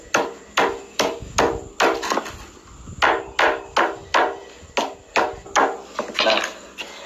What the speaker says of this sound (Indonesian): kulit kelapa yang sudah direndam ini dipukul-pukul menggunakan palu ya